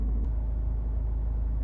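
The diesel engine of a Honda CR-V 1.6 i-DTEC SE idles with an even low rumble from inside the cabin, one short click near the start.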